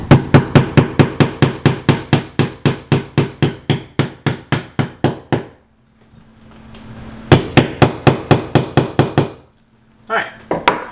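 A metal pipe used as a makeshift hammer pounds a corkboard mount into a wall in a rapid run of about two dozen sharp, evenly spaced knocks, a short pause, then another burst and a few final blows, close and loud.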